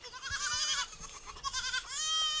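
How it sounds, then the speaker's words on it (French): Goats and sheep bleat in wavering, nasal calls, two or three cries close by in quick succession over a quiet background. "Il gardait les moutons et les chèvres de sa famille."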